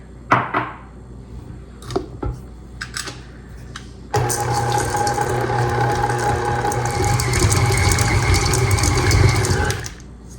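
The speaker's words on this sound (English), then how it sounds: "because this mixture is so thick, we are actually going to beat them in with the mixer" Electric mixer beating chocolate chips into thick cookie dough, starting after a few knocks and clicks and then running loud and continuous for about six seconds before stopping.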